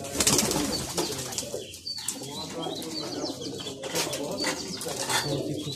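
Madrasi pigeons coo and stir inside a loft, a steady low murmur of cooing with occasional wing flaps and chirps, close by and continuous throughout.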